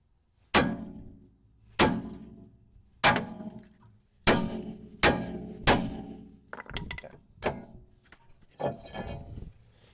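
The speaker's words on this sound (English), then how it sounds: "rotor's stuck, so now we're going to hit it with a sledgehammer. Give it one good strike here on the bottom and it should come out." A sledgehammer strikes a stuck rear brake rotor on a Hyundai Kona, giving about eight loud, sharp metallic blows with ringing decay, spaced roughly a second apart, then quicker, lighter hits toward the end.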